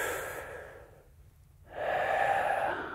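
A deep inhaled breath, like drawing on a vape, comes as a close, breathy intake that fades to a brief pause and then swells into a longer, airy exhale, soft and intimate with no talk.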